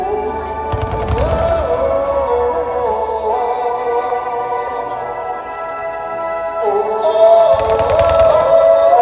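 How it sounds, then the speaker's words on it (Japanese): Fireworks opening a festival show at Chigasaki, with a broad, continuous wash of crackling bursts and booms over a steady roar, swelling near the start and again toward the end. "それでは花火大会開演です。"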